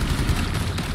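Frag grenade blast in the video game Rainbow Six Extraction: a dense, rumbling burst of explosive noise heavy in the low end, sustained and loud through the short moment with no speech.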